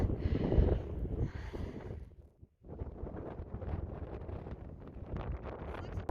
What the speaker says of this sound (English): We're gonna head down here shortly because it's super windy.